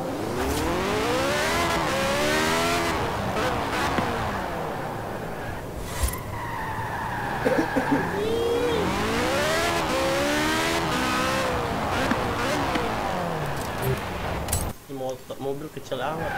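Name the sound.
car engine and skidding in Forza Horizon 4 video game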